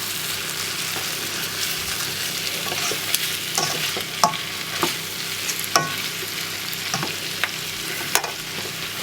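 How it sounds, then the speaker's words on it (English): Sweet and sour chicken and pork with pineapple being stirred through in a frying pan: steady sizzling and frying hiss under irregular scraping utensil strokes and sharp clacks, close and alone with no talk. "in we go with the pineapple. Just mix that through"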